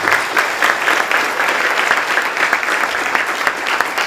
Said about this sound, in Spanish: yo sé que sí haya un aplauso para la doctora